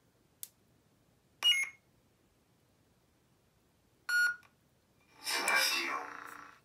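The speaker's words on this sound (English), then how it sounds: "Push and hold the power button until you hear the second beep" Two short electronic beeps from a custom lightsaber hilt's power button sound a few seconds apart in a quiet room, followed by a brighter humming tone that swells and fades.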